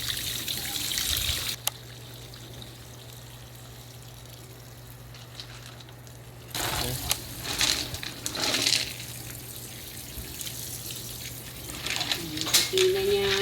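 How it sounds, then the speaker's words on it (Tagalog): White pebbles rinsed with water after a muriatic acid soak: splashing, trickling water and stones shifting come in bursts at the start and again midway, separated by a quieter stretch with a low steady hum. "Hugasan ng tubig ulit."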